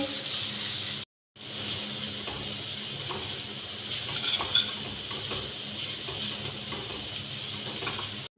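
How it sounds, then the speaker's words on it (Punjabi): Spices and turmeric are stirred into onions frying in a pan for besan bhurji, giving a steady close sizzle with scraping stirs and small clinks, briefly cut by a moment of silence near the start. "ਮਸਾਲੇ ਪਾਉਣ ਤੋਂ ਬਾਅਦ ਹੁਣ ਆਪਾਂ ਚੰਗੀ ਤਰ੍ਹਾਂ ਉਸ ਨੂੰ ਮਿਕਸ ਕਰ ਲਿਆ"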